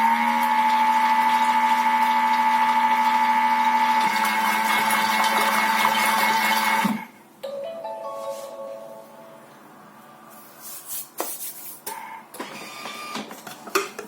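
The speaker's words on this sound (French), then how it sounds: "je vais mélanger quelques secondes" An electric mixer whirs loud and steady for several seconds while blending batter for a magic dough made with olive oil and flour. It then shuts off, leaving quieter kitchen clatter.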